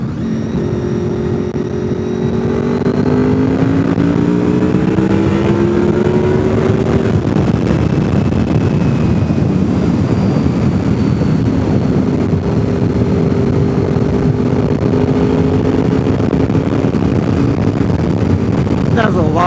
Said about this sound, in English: A lot of traffic going the other direction.